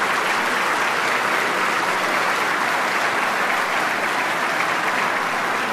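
Gala dinner audience applauding: a broad, even roar of many hands clapping, sustained and fairly loud for several seconds with no voices on top.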